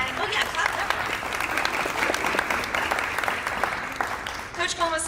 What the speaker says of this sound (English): oh yeah, clap that